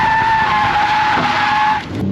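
Tires skidding during a burnout by a 1978 Ford F-350 pickup truck, a loud sustained squeal over engine roar that fades out at the end.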